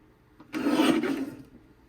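Paper is trimmed with a paper trimmer in one close, rasping slice of about a second, a dry scraping cut that rises quickly and fades, heard alone.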